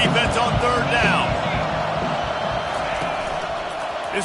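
A football stadium crowd roars in support of the defense on third down, a loud, sustained wash of noise with a thud early on and an announcer talking over it.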